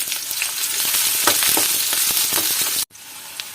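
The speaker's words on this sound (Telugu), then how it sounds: "కట్ చేసి పెట్టుకున్న ఆనియన్స్ వేసుకొని మిర్చి కూడా వేసుకొని ఫ్రై చేసుకోవాలి." Chopped onions and green chillies fry in oil with cumin and mustard seeds, a loud, close, dense sizzle with spatula scrapes that cuts off abruptly near the end, leaving a faint sizzle.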